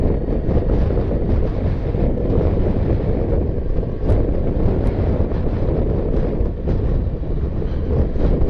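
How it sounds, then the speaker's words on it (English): Loud, continuous wind buffeting the microphone with a low roar during a Kawasaki Versys motorcycle ride, steady throughout with no voices. "It's windy again."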